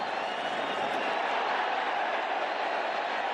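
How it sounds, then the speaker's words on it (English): A football stadium crowd roars steadily during a Barcelona versus Juventus match, a dense, sustained wash of cheering and applause with no clear breaks, heard from a distance across the whole stand. "The crowd loves it"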